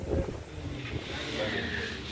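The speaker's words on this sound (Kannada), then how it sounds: "ನೋಡಿ ಗಾಳಿ ಬೀಸುದು." Wind blowing in Dirang, Arunachal Pradesh, a steady close rushing roar that buffets the microphone with a low rumble, briefly and without speech.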